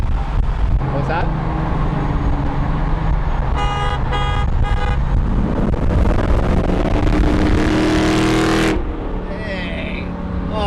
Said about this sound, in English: Three honks!